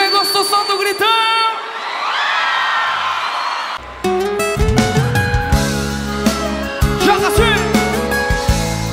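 A concert crowd at a show shouts and cheers loudly for about two seconds, and then loud live music with singing comes in over the crowd.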